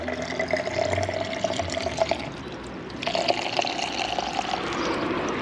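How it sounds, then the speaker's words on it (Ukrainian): Continuous splashing water flowing and pouring outdoors from a drinking fountain shaped as a lion's mouth, a steady bright rush with no talking. "Тут тобі фонтанчик, тут тобі із морди лева витікає вода."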